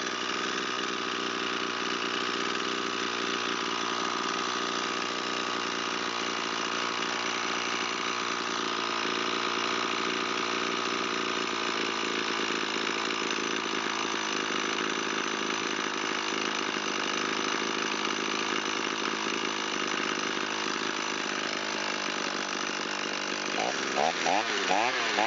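An Echo SRM225 string trimmer, revived after sitting unused a long time, idles steadily and close by with an even mid-pitched two-stroke drone that holds for the whole stretch.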